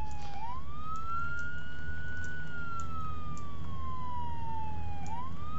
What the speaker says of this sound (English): I've got sirens on.